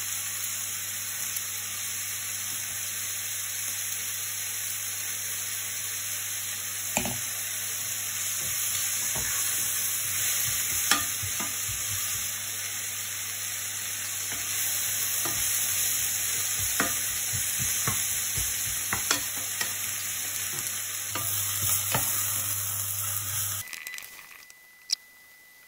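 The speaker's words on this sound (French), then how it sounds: "il faut être patient pour que ça saisisse au fond de la casserole" Steady sizzling and frying of onions browning in a saucepan, with occasional stirring scrapes and pops over a constant background hum.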